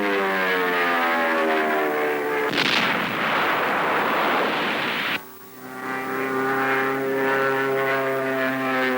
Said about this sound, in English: Navy planes come over enemy positions in the hills.